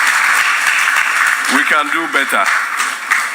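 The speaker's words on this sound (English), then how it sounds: "Shall we all give a round of applause?" A crowd at a commissioning ceremony for educational projects in Ghana gives a sustained round of applause, while someone speaks briefly over the clapping.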